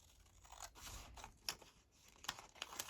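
Scissors snip across paper scraps for a collage page, a few quiet, close crisp cuts and rustles at irregular intervals.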